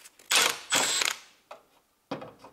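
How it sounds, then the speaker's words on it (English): A 10 mm socket wrench loosening a bolt on a 2008–2018 Lexus LS460 V8 4.6, a few quick ratcheting bursts with short pauses between them, close and crisp. "we need now 10 millimeter socket, that we can open this bolt"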